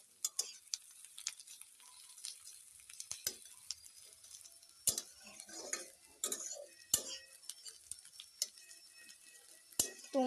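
Onions frying in a pan, a quiet crackle broken by repeated sharp scrapes and taps of a spatula stirring them.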